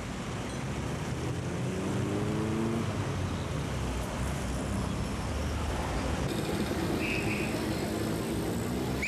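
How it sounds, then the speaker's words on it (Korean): A tricycle taxi built from a converted motorcycle rides through Manila traffic, its engine a steady close drone amid constant road noise, with a brief horn toward the end. "트라이시클은 오토바이를 개조해 만들었습니다."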